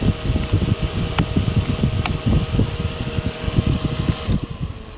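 Vornado Flippi V6 fan running on its high setting, a steady close whirring airflow drone with a few faint clicks, no talking.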